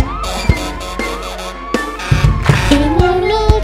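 A fire engine siren effect in a French children's song sounds as gliding wailing tones over upbeat music with drum hits, its sweeps building louder toward the end.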